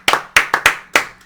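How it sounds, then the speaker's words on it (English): A few people clap hands in five separate bursts, sharp, close and loud, then fade out, with no talking over it. "Round of applause for that."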